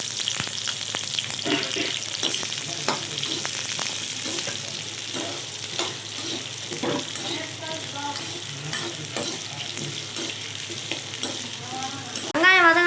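Onions being stirred in hot oil for a country chicken curry, giving a steady crackling sizzle with scraping stir strokes throughout and a brief louder clatter at the end.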